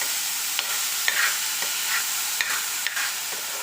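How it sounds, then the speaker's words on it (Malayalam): A pan of chopped snack mix is stirred and sautéed over heat, giving a steady soft sizzle with light scraping strokes at irregular moments throughout, moderately close and without any voices. "എന്നിട്ട് നന്നായിട്ടൊന്ന് വഴറ്റി കൊടുക്കാം"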